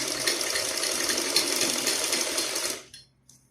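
A sewing machine runs steadily, stitching a seam in salwar fabric with a dense, continuous mechanical whir that stays loud for nearly three seconds and then stops abruptly, leaving a brief faint click.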